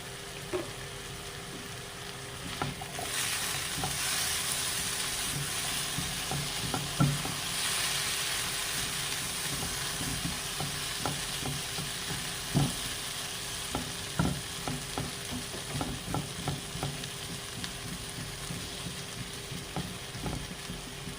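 A potato and egg scramble fries in a pan with a soft steady sizzle as a spatula stirs it, giving irregular scraping knocks at close range with no talk throughout.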